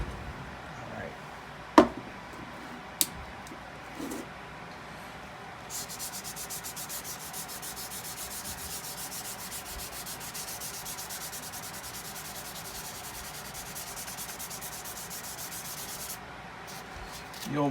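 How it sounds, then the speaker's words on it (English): Fine 600 grit sandpaper rubs steadily over a guitar body's finish, a continuous close hiss of detail sanding after a few light knocks. "I'll get some 600 grit sandpaper."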